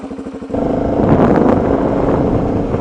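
A motorcycle engine drones loud and close while riding on Tinos island, a sharp rise at the start settling into a steady, rough, continuous roar with a faint wind rush.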